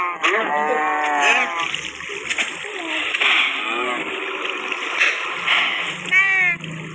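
Blocky game cow mooing in a Minecraft-style world, several drawn-out moo calls at close range over game background noise, with a voice talking throughout.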